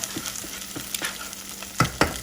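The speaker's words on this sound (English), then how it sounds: "once you add the onion and garlic to it, you're going to take this and you're going to mix it up a little bit like that" Onion and garlic sizzle and fry in a pot while being stirred, with a steady crackle broken by scraping stirs and two louder clacks near the end.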